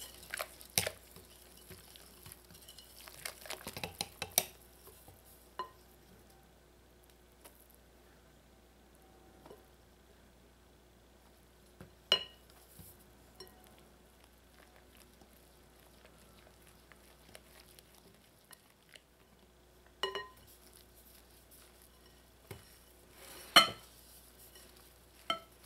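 Dough being mixed with a Danish dough hook for Trini coconut turnovers, giving scattered soft scraping and tapping strokes in bursts with quiet gaps, close and fairly faint throughout.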